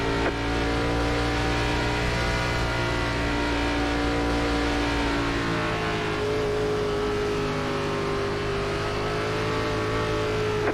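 Race car engines in an ARCA racing game at Phoenix drone loudly and continuously, with layered harmonic whines that shift pitch midway as the cars accelerate at the green flag, with no voices.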